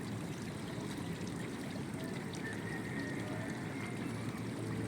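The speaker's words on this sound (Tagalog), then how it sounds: "Ito yung ilog dito sa tapat ng bahay ko sa barangay Nangka, Marikina City." Steady rushing water flows without pause, a broad continuous roar of a flooding river close to overflowing, heard from close by in Barangay Nangka, Marikina City.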